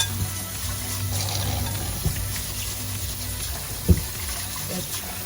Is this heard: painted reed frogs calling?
no